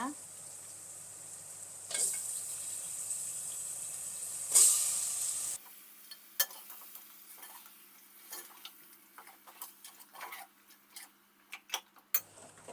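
Washed mutton goes into a hot pan for a mutton and drumstick curry. A loud, close sizzling hiss lasts several seconds, then drops to a quieter sizzle with scattered sharp clinks and scrapes of stirring.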